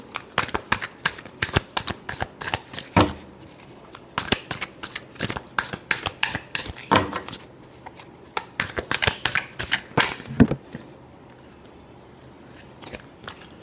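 Tarot cards are shuffled close up in quick bursts of crisp riffling flicks, with pauses between rounds and a quiet stretch at the end.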